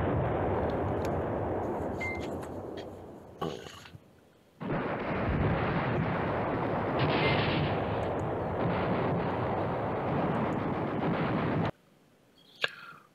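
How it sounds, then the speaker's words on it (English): Artillery bombardment in the wartime strategy game Command Ops 2 makes a dense, continuous roar of distant shelling that cuts out briefly twice and then stops abruptly near the end. "Oh no, he's still bombarding."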